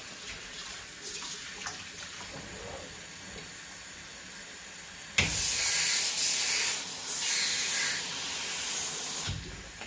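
Water running from a tap while a Suzuki Sirius bass harmonica comb is washed, a steady hiss that swells louder midway with splashing changes as the stream hits the piece.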